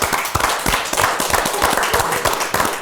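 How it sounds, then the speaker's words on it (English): A studio audience and guests clap their hands together, a dense, close patter of claps with some sharper individual hits, sustained steadily for about three seconds with no talking. "let's give a hand clap to the audience and the guests"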